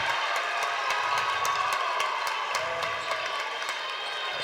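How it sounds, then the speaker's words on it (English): A basketball game crowd at GCT versus Batesville Southside stirs with steady cheering and murmur, a constant wash of voices with scattered claps and shouts throughout, moderately distant in a gym. "And the crowd awakens"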